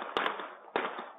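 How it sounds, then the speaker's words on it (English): Gunshots picked up by a neighbor's security camera during a shooting at a house party: two sharp cracks close together, a pause, then another loud bang, each over a muffled, band-limited background. "A neighbor's security camera caught at least 16 gunshots."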